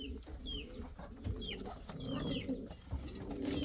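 Indian fantail pigeons in a loft give soft, low cooing in repeated pulses, with faint chirps and shuffling noise nearby, fairly quiet overall.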